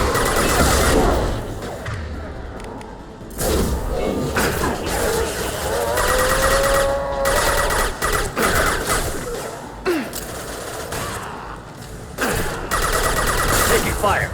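Gunfire and explosive crashes in a Mass Effect 2 Legendary Edition firefight during Jack's loyalty mission, with bursts of shots and impacts running steadily under voices and in-game chatter throughout.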